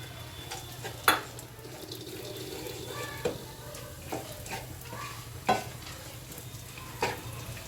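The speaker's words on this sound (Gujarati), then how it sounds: "આપણું જીરું સાતળી લેવું" Cumin seeds and peanuts sauté in a pan for Gujarati sabudana vada, with a soft steady sizzle and a few sharp scraping stirs standing out at intervals.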